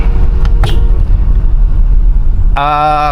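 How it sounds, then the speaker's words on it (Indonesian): Toyota Innova Reborn with manual transmission moving off as the brake is released and throttle applied, a steady low engine rumble throughout, joined near the end by a tonal whine. "Nah kita lepas rem sambil kita gas."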